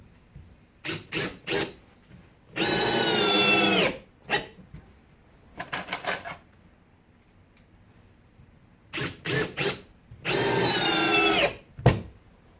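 A Makita XFD11 sub-compact cordless drill with a small 2 Ah battery drives screws, heard as short clustered whirring bursts and two longer, loud, high-pitched runs separated by quiet gaps.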